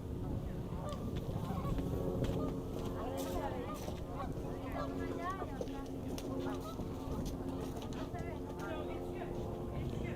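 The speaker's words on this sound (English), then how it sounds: "I think the geese heard it's going to be 60 degrees on Thursday" A flock of geese gathered outdoors in New York City honks continuously, many overlapping calls close by over a constant background roar, while people talk nearby.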